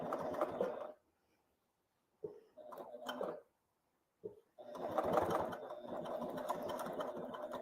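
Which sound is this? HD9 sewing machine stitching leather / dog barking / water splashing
HD9 sewing machine stitching leather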